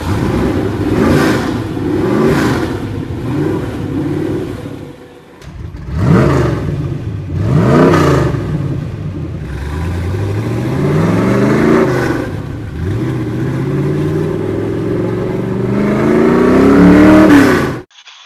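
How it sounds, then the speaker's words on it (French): A Mercedes V8 engine revs hard several times on a supercar, loud and close, with rising and falling whines and a final sharp surge at the end. "C'est du V8, ça. C'est du V8."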